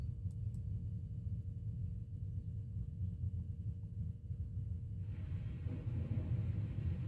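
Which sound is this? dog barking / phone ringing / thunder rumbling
thunder rumbling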